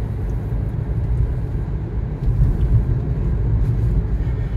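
Car driving along a road through Zejtun, Malta, on a sunny day, heard as a steady low rumble of engine and road noise from inside the vehicle, with no talking.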